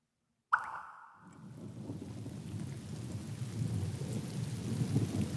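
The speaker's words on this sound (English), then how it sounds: "When raindrops fall from the sky, trees and plants help break their fall." A sharp thunderclap cracks out of silence and rumbles away, then rain builds into a steady, swelling roar of falling water that grows louder toward the end.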